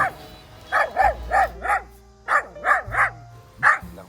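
A voice imitating a dog barking, about ten short yapping barks in uneven groups, close and clear.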